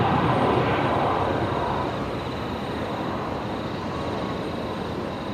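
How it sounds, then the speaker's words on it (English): A Qantas airliner taxis after landing at Brisbane Airport, a steady broad engine roar heard from a distance that eases slightly and holds a constant whine. "Now, Qantas 626 just arrived from Melbourne there, and they're going to have a pretty short journey into the terminal."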